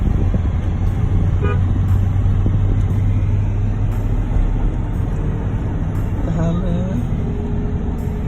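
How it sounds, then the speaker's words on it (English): A restored car driven on an open road, its engine rumbling steadily throughout with constant road and wind noise, plus a brief toot and some faint voices in the background. "we've got footage of him driving the car on the road"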